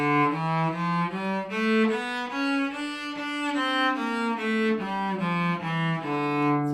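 A solo cello plays a melodic minor scale, one bowed note after another rising and then descending, smooth and close.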